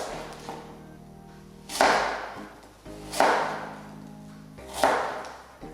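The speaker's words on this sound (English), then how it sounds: "If you just cut straight down either side of the core" A knife cuts straight down either side of an apple's core, giving three sharp chopping thuds against a board about 1.5 seconds apart, each fading quickly, close and clear with no talk over them.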